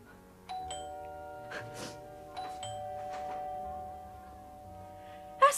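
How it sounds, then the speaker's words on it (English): A doorbell rings indoors with clear electronic chimes that repeat several times at a steady pace, and faint tonal background music plays underneath. "That's a bell."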